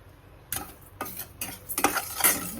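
Salt is stirred in a dry kadai on the stove for roasting salted peanuts. Close, gritty scraping strokes repeat irregularly, growing busier and louder toward the end, with no talk.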